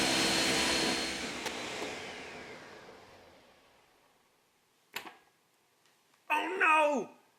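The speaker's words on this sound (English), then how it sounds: "Put it in the blender." A blender whirs loudly, blending pumpkin pie ingredients, then winds down and fades over several seconds, followed by a brief knock and a short spoken exclamation.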